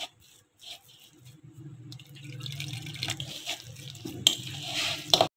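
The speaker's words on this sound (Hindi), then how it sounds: "थोड़ा सा पानी और ऐड कर लें।" Water is poured into a pan of semolina halwa during cooking, making a splashing, trickling pour that builds up over a few seconds, with a couple of sharp clinks near the end.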